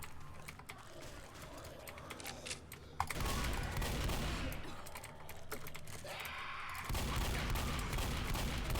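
Sustained rapid gunfire in a first-person video game, a dense rattling burst that swells loud and continues almost without pause, with the faint murmur of a player's voice.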